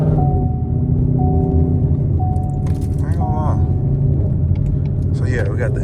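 A Ford Mustang GT with a 10-speed transmission and H-pipe exhaust drives along with a loud, deep, steady engine rumble, while people talk over it inside the car.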